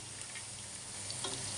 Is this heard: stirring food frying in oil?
yes